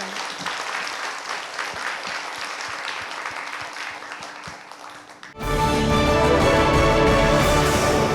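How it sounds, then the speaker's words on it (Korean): An audience applauds after a live musical performance of a song, a dense, moderately loud clapping that fades slightly before a loud burst of music abruptly takes over near the end. "다시 한번 큰 박수 보내주시기 바랍니다"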